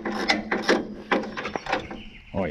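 A ratchet spanner tightening the nut on a driving light mount of a Toyota Hilux, with quick repeated clicking strokes, close and fairly loud with no talking.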